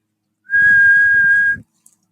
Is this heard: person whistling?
yes